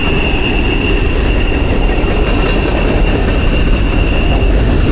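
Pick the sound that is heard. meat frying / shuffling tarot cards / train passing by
train passing by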